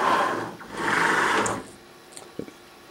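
Axes of a CNC machine driven through a Yaskawa panel running Mach 3 travel back to zero with a steady mechanical whirring in two bursts. Quieter light clicks and a soft thump follow.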